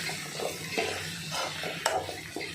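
Chopped onions and tomatoes sauté in a pan for Tamil-style tomato thokku. A soft, steady sizzle carries a few close scrapes and knocks of a stirring spoon, with no one speaking.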